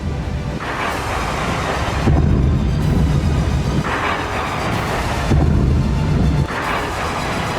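Repeated deep, booming blasts from strikes on Kharkiv, Ukraine, roll in one after another, each a loud broadband rumble with sustained low-end roar, no voices present.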